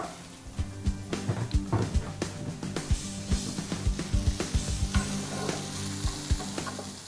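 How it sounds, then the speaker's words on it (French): Onions and fennel sizzle in a frying pan, a steady close fry with repeated clicks and scrapes of stirring scattered throughout. "vais finir de faire cuire mes oignons et mes fenouilles ensemble"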